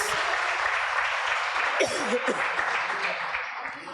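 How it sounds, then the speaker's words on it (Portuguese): A church congregation applauds during a Tuesday worship service, a dense, steady wash of clapping from many hands that holds for several seconds, with a voice briefly rising over it midway. "Aplauda o Senhor, querido"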